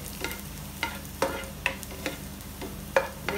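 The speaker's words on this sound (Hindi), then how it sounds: "दो फ्लेम कर दें और इसको भूनना है।" Soft, steady sizzle of garlic frying in a pan, with scattered clicks and scrapes of a utensil stirring every half second or so.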